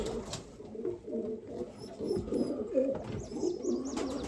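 Baby pigeons and their all-white mother cooing in a loft, soft low murmuring coos repeating close by with a few faint higher chirps, no talking over them.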